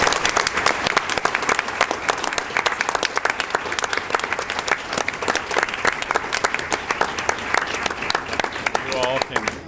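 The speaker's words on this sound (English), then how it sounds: "one last round of applause for these" Sustained applause fills a school board meeting, dense rapid clapping from a roomful of people continuing steadily and loudly throughout, with a brief voice rising near the end.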